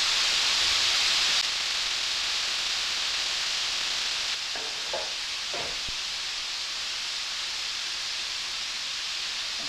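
Onions fry in a pan next to brie-topped burgers, giving a constant dense hiss like steady rushing static, loud and even throughout, with faint clinks partway through and no one speaking.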